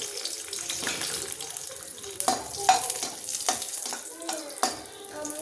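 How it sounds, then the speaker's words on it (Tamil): Cashews and raisins fry in a pan for milk payasam, giving a busy, fairly close sizzle with irregular scraping stir strokes and bursts of crackle throughout. "இது நல்லா பால் மாதிரி ஊதி வர்ற வரைக்கும் வறுத்து விட்டுக்கலாம்"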